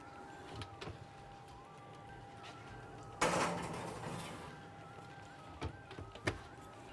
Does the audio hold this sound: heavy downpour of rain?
no